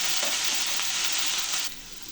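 Potatoes with a little salt frying in hot oil in a wok, a steady dense sizzle that holds loud and close throughout, dropping slightly near the end.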